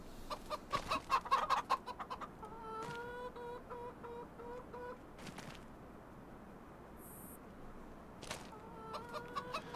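Chickens on a farm in the Farming Simulator 25 video game cluck in short bursts near the start and again at the end, with a steady farmyard bed of bird noise between and no talk.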